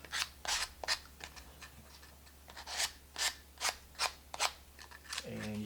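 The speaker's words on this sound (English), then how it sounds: "I'm just going to go around and give those a little light sand." Light hand sanding along the edges of a wooden coaster box, a series of short, bright rasping strokes in an uneven rhythm, close and moderately loud over a low steady hum.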